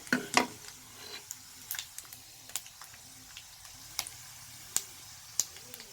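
Fennel seeds dropped into hot oil, a faint sizzle with scattered sharp pops and ticks as the seeds crackle, quiet and close.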